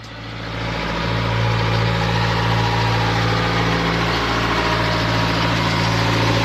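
A heavy diesel tractor engine rumbles steadily, growing louder over the first second or so, then holding a loud, close chugging idle.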